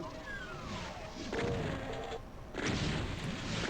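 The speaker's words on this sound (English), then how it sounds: "Somebody's shooting at me from behind me" Gunfire from an enemy in Doom (1993), heavy booming shots and blasts over a constant rumbling backdrop, with two louder bursts midway and near the end, no voices.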